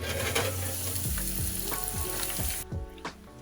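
Coated beef steak deep frying in oil at 180 degrees, a loud close sizzle with repeated low clunks of stirring or moving pieces, the bubbling easing off toward the end.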